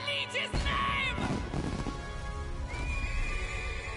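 A horse from the video game Metaphor ReFantazio gives a loud, close whinny, followed by its hooves clip-clopping steadily beneath game music and effects.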